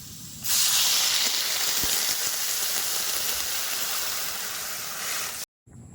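Water poured into a hot village-style curry of taro and fresh shrimp sets off a loud, close, steady hiss of sizzling and steam that lasts about five seconds before cutting off abruptly.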